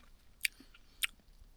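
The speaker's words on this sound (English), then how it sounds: "I am a carrot cruncher, and I like crunching on me carrots" Crunchy cooked carrots are chewed close up at a wild camp, with two crisp bites standing out against quiet outdoor background.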